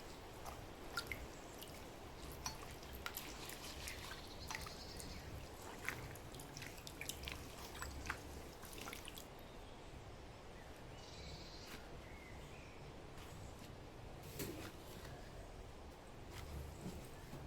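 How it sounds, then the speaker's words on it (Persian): Fresh grape leaves being washed by hand in a bowl of salted water in a kitchen, with soft drips, small splashes and wet squishing sounds, quiet and close, with no talking. "برگ‌های مو رو داخل ظرف آب بذارید. نمک اضافه کنید و بشورید."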